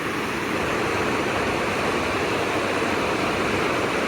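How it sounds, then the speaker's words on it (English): Water of a large Missouri Ozarks spring boiling up out of the ground, a constant dense rushing hiss like a waterfall, loud and unbroken throughout. "all of that water is boiling up and out of the ground"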